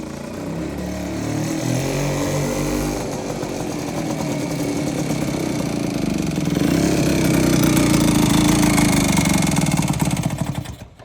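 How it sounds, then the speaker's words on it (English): A small engine in need of a tune-up and carburetor adjustment sputters, catches and settles into a steady, loud idle, its rough mechanical drone continuing for several seconds before cutting out. "Let's see if we can get engine start, and we'll give her a run."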